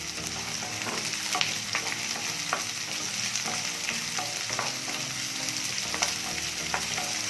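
Onions and garlic fry in hot oil for a spicy tomato chutney, giving a dense, even sizzle punctuated by occasional stirring clicks, close and continuous, with no speech.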